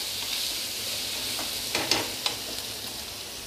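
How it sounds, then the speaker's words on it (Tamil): Onions, green chilli and curry leaves sauté in a pan with a continuous close sizzle, and a few brief stirring scrapes come near the middle; no one speaks. "போட்டு நல்லா வதக்குங்க. பச்சை வாசனை போகிற அளவுக்கு வெங்காயம் நல்லா வதங்கட்டும்."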